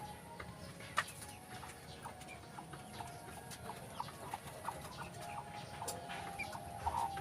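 A native chicken clucks softly among faint bird calls outdoors, with light tapping and scattered chirps over a steady low background.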